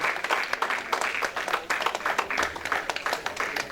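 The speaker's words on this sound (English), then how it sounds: "Give her a round of applause." Audience applause welcoming a speaker onstage at a civil rights talk, a modest, fairly quiet patter of clapping from a small crowd, steady and uneven throughout.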